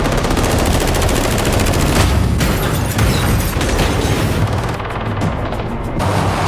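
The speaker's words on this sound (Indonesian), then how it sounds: "Ketika di tengah perjalanan datanglah para pemburu, dan jual beli tembakan pun tidak terelakkan." Dense, loud exchange of gunfire between hunters, with rapid automatic bursts and booming impacts overlapping continuously and no talk.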